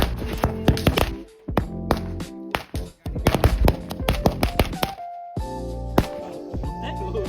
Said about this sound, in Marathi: आता आपण फटाके फोडतोय